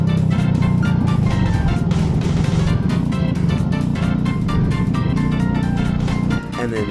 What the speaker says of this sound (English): you'll hear the engine wants to die because you can hear it like bogging out and like losing RPMs